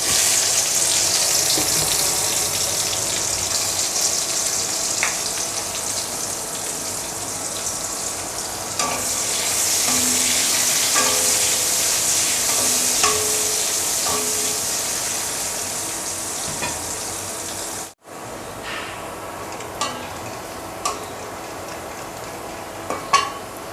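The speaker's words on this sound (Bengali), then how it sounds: "পেঁয়াজটা অলমোস্ট ভাজা হয়ে গিয়েছে" Onions frying in a pan with cumin seeds, a continuous close sizzle with occasional stirring scrapes, briefly cutting out near the end before the quieter sizzle resumes.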